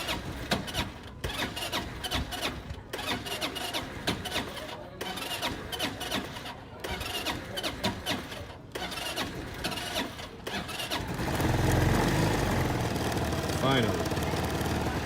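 Starter motor cranks a CFMOTO KinRoad dune buggy engine in a steady grinding run, then the engine catches near the end and turns over louder and rougher; a voice talks over the cranking.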